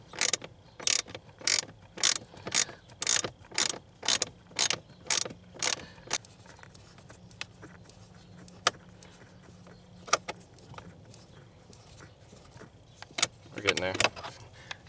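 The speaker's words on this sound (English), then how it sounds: "I could probably actually use this bigger ratchet on there since there's more room back there" A ratchet loosening a bolt near the fuse box of a Ford Fiesta, about a dozen quick evenly spaced clicks, close and crisp, then scattered taps and handling under faint speech.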